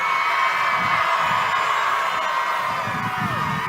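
A large crowd at a political rally in Nevada cheers steadily, with whoops, whistles and shouts blending into a continuous roar throughout.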